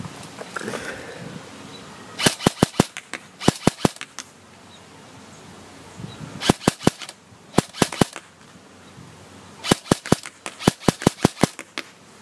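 Classic Army SCAR-L Sportline airsoft gun firing outdoors, sharp snapping shots in quick bursts of three to five separated by pauses, loud and close against quiet ambient background.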